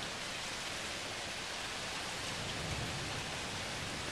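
Heavy rain pouring during a July thunderstorm, a dense, even hiss of falling water that stays steady and fairly quiet throughout, with no distinct thunder.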